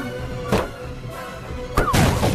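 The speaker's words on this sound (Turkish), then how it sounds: "Patlayacak kaçın." An explosion in a dubbed Five Nights at Freddy's comic animation. Two short, sharp bursts sound at moderate volume, the second louder and followed by a crashing rumble.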